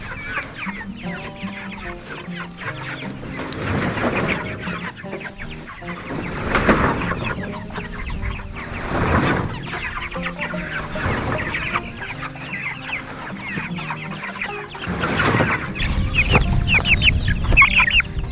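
Layer hens and six-week-old Cornish cross chickens cluck steadily in a flock, overlapping calls rising and falling throughout, with louder bursts near the end.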